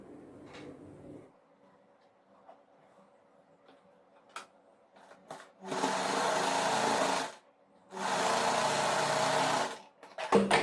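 An electric sewing machine runs two steady buzzing bursts of stitching along the side seam of a nightsuit, each about two seconds long, between quiet handling clicks and fabric rustles.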